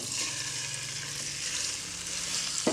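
Bone-in goat mutton frying in half a cup of cooking oil over high heat, a continuous dense sizzle that stays even and close throughout, ending on one brief knock, with no talking.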